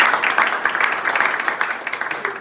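An audience at a birthday gathering claps together, a dense, steady patter of many hands at moderate distance lasting a couple of seconds, with little else heard.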